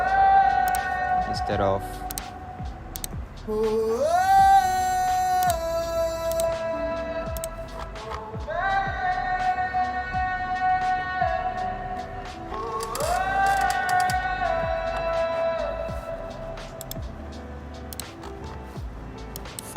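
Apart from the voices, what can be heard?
vocal with telephone EQ effect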